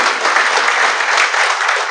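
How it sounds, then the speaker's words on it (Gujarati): An indoor audience gives enthusiastic applause welcoming a guest, dense and loud clapping from many hands that holds steady throughout. "ચિરાગને પણ જોરદાર તાળીથી વધાવી"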